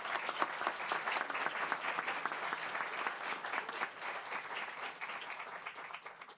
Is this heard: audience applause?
yes